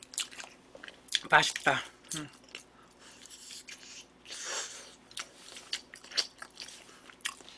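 A soft-boiled egg being bitten and chewed, with a couple of sharp crisp bites early and softer wet chewing after, close and intermittent, with a brief spoken remark.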